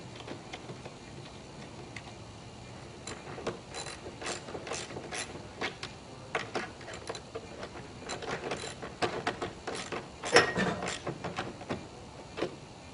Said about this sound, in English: And then you're going to take your wrench and just reach under there and tighten up all 6 bolts.